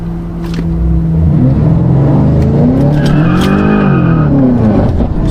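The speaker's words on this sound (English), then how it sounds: "I'm gonna try, if it lets me, a second gear launch with factory launch control" A 700-plus horsepower all-wheel-drive BMW F90 M5 launches in second gear with factory launch control, engine roaring loud and close as tires spin and squeal, pitch rising and falling through the wheelspin.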